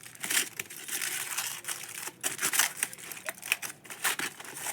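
Aluminium foil paper crinkling and rustling in a home kitchen, a continuous soft crackling with irregular louder crunches, close and fairly quiet, with no talk.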